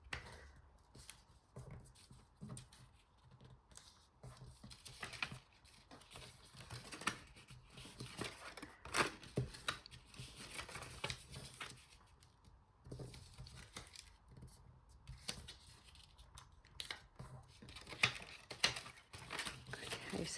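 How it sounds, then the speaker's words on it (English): Square 6x6 paper being folded flat along its score lines for a mini Easter basket, a run of soft crinkles, taps and creases, quiet and intermittent in an otherwise hushed room. "we'll fold all of those score lines"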